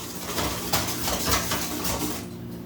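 Cornmeal muffin batter being mixed with oil in a bowl, a continuous close wet swishing with rhythmic scrapes of the utensil against the bowl, fading out at the end.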